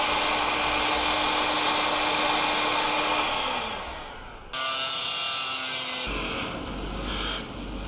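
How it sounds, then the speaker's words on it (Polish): A hot air gun blows steadily at close range as it shrinks heat-shrink tubing onto a battery clamp cable end during a winch install on a Suzuki Jimny JB74; the airflow tone changes abruptly midway, then continues with some handling noise. "I teraz finalnie sobie zgrzejemy opaskę termokurczliwą"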